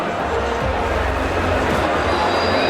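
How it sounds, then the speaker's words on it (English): An angry cricket crowd at Kensington Oval, Barbados, roars in a steady, dense wall of noise, loud and continuous throughout with no single voice standing out. "A crowd still in angry mood"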